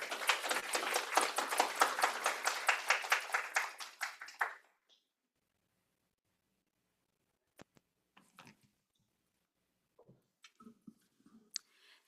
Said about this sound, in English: Please, a round of applause for our incredible speaker.